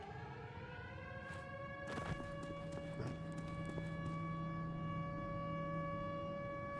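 A long, steady siren wails in the base-building survival video game Misery, a sustained harmonic tone holding level through the whole stretch with faint thuds and clatter underneath and no talk.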